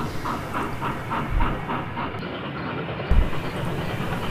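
A steam engine train pulling trucks rumbles along with a continuous rolling roar, rhythmic chuffing puffs and a couple of low thuds, close and steady with no voices.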